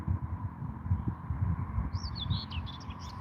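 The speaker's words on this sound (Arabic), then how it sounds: "العصافير تزقزقوا" Faint bird chirps in London come through in the second half, small high twitters over a steady low indoor hum and rumble.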